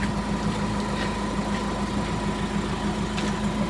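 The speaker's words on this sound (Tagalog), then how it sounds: "Patayin nyo muna yung makina." A vehicle stuck after falling on a collapsed road idles with its engine running, a steady, even rumble with a faint hum and rattling vibration, held constant throughout.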